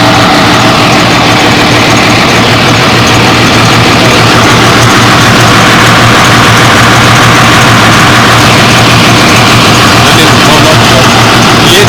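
A Hyundai excavator engine idles with a loud, steady low rumble and constant mechanical drone that fills the whole stretch without pause.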